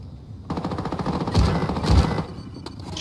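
Rapid automatic gunfire from a video game crackles in quick bursts, close and loud, with a short pause and a final single shot, no speech over it.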